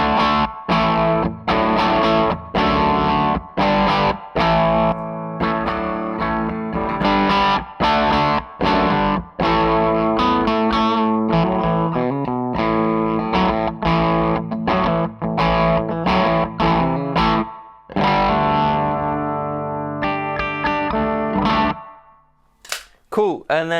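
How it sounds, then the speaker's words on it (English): Electric guitar played through a boost overdrive pedal with the fuzz side off, giving a mid-heavy, driven tone; loud chords and riffs ring steadily for most of the stretch, then a brief pause and a few final notes. "that boost is a great kind of boosty overdrive sound with loads of mids."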